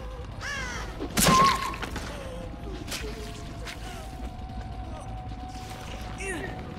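A crow caws a few times at a distance, harsh calls rising above low ambient rumble and a loud nearby thump, with a person speaking at times.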